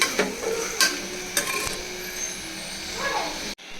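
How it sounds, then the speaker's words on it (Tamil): Prawns cooking in chilli masala for biryani, a soft continuous sizzle with a few sharp clicks and scrapes of a utensil stirring in the pan, close up. "கொஞ்சமாக ஆட் பண்ணிக்கிறேன் இந்த மசாலாவோட பிரான் வந்து நல்லா குக் ஆகட்டும்"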